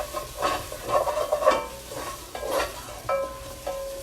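A wooden spoon stirs and scrapes firmly around a pot of sizzling fat from slow-cooked short rib, giving repeated rough scrapes and clacks over a low frying crackle with no talking.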